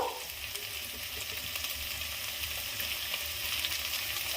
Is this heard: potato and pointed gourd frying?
yes